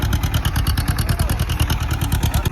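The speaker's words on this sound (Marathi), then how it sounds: "म्हणजे जवळपास 6-7 ट्रॅक्टर चालू आहे आता इथं" Six or seven tractors, among them a 724 XM and an 855, run in a farm field, giving a loud close rhythmic diesel chug with rapid regular pulses and rattling clatter.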